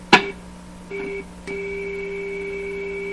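A radio signal heard through a signal tracer on a 1935 Rogers 7R622 tube radio: steady electronic tones switching on and off, a sharp click followed by a pure hum with a higher whine, buzzing continuously toward the end.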